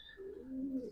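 A racing pigeon coos once, a soft close murmur that dips and rises, heard alone at low volume.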